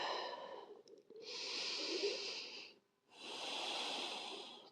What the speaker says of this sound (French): On reste pour 2 respirations, 2 longues inspires